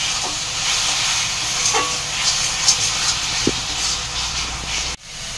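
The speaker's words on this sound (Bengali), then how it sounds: "এবার ভালো করে কষিয়ে নেবো আরও একবার" Chana matar masala with turmeric sautéing in a pan fills the space with a steady sizzling hiss, broken by a few faint stirring scrapes and ending in a brief cut. No one speaks.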